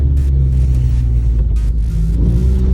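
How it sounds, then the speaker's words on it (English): Honda Civic Si EP3 engine revving hard as it climbs into VTEC, a loud, steady, close rumble with rising engine tone and no talk over it. "I do want to show you that Vtec does work."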